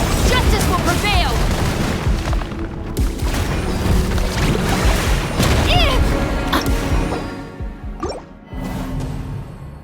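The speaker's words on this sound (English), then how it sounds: "Here come the fireworks!" Fireworks bursting in the video game Genshin Impact, loud booms and crackles piling up over game music and character voice lines, then tailing off near the end.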